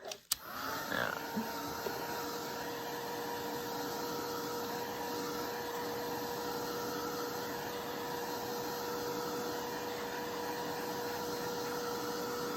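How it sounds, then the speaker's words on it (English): A heat gun blows steadily while drying acrylic paint on a craft project, a constant close whirring hum with a faint tonal whine that holds evenly after a click as it switches on. "And these heat guns, they dry pretty fast."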